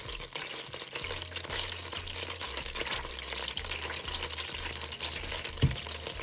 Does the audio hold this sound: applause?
no